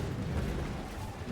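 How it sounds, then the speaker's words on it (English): A race car in a racing video game slams into a wall and explodes, a loud, dense rumbling burst of crash noise that fills the whole moment with no clear separate hits. "that's going to be an explosion into the wall"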